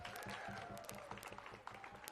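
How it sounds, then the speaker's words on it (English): Applause from an audience, a steady wash of many hands clapping with some crowd murmur underneath. "so clap it up for Nico"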